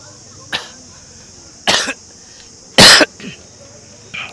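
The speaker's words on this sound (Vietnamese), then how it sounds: "Ho quá rồi, ho rồi." A sick person coughing in several separate harsh bursts spaced a second or so apart, loud and close, against a steady high-pitched background hum.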